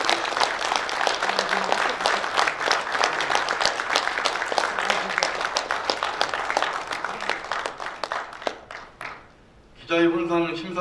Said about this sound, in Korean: 잠시 일어나서 내빈 여러분 좀 큰 박수 좀 부탁드립니다